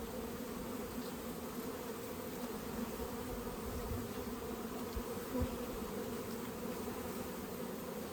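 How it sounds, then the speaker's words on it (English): Dense, steady drone of many honey bees at an open hive, the pollen-laden colony humming continuously and close with no voices. "The bees have done pretty well today already."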